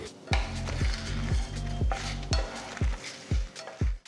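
Dried red chillies and cumin seeds fry in a pan with a steady sizzle under repeated sharp knocks and scrapes of a utensil against the pan, close and fairly loud.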